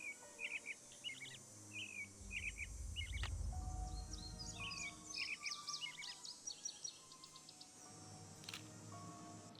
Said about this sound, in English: That sounds like a whippoorwill.